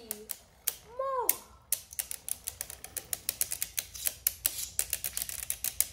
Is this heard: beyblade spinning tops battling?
yes